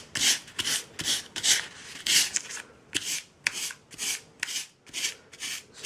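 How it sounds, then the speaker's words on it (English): Steady back-and-forth rubbing of 500 grit sandpaper stripping paint from a small Hilux 4WD emblem for an RC4WD Trailfinder 2, close and fairly loud, with rhythmic strokes repeating for several seconds and no talking. "So let's try 500 grit."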